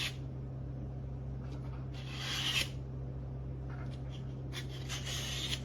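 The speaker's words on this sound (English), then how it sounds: "I'm just gonna take and insert that over the blade and just do a couple of 3 or 4 swipes down." A knife blade drawn through an AccuSharp handheld sharpener in a few gentle downward swipes gives soft rasping strokes, two of them stronger, over a steady low hum, with no talking.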